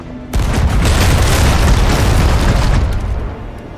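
A ship's cannons firing in the pirate game Sea of Thieves, starting abruptly as a loud booming blast that rolls into a heavy sustained roar before fading out after a few seconds.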